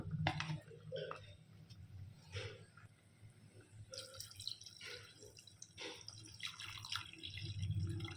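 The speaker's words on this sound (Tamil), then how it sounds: "இன்னும் 2 டம்ளர் தண்ணி சேர்த்திக்கலாம்" Water pours and drips into a pot of leather jacket fish curry, a steady splashing trickle with a few louder spills, close by and without talk.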